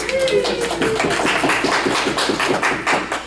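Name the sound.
audience applause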